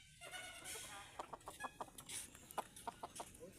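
Philippine wild chickens (labuyo) clucking in a series of short, sharp calls, close and fairly loud, with no talking.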